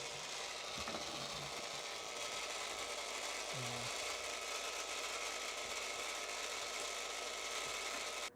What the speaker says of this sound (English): The output from the pump's going into the fuel tank